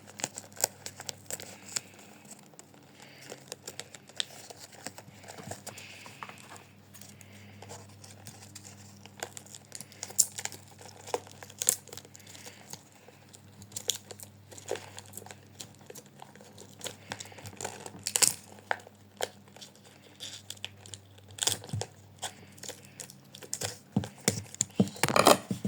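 Thick gaffer tape is pulled off the roll and torn in repeated short crackling rips and crinkles, close and fairly quiet, with irregular bursts spread across the stretch.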